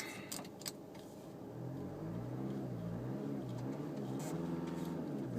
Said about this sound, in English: Of course you can still hear the clacky traditional diesel.